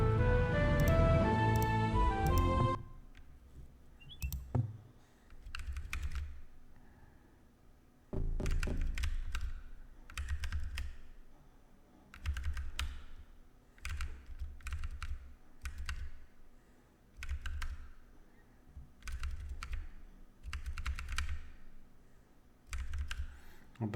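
Computer keyboard keys clack in irregular bursts of typing, close and moderately loud, with brief pauses between strokes after an opening stretch of game music.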